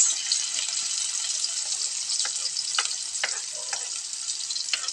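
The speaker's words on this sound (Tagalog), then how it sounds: "Yan, ang ating bawang at sibuyas. Gisa-gisa na natin siya." Garlic and onion sautéing in a hot pan while making spaghetti, a loud continuous sizzle with a few light scrapes of stirring, close up and without talk.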